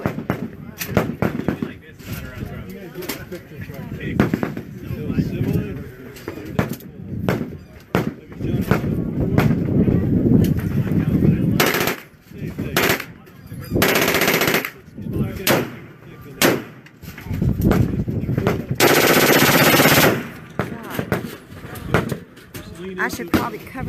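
Large guns fire at an outdoor shooting range during an industry day. Heavy, booming shots come in bursts and rapid strings, with bursts of static-like roar, and people talk between the shots.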